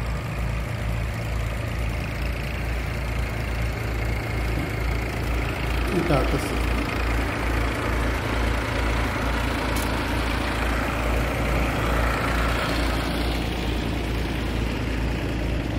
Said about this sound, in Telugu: రైట్ సైడ్లో ఉంది హెవీ మోటార్